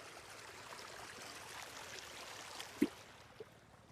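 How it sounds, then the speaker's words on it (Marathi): A waterfall and stream flowing near rice paddy fields, a steady low rushing wash of water throughout with one brief sharp knock partway through. "धबधबा पण दाखवतो तुम्हाला धबधबा"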